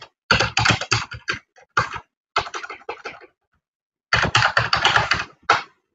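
Close, crisp typing on a computer keyboard while entering a password: quick clattering keystroke bursts separated by short silent pauses, fairly loud and with no voice over them.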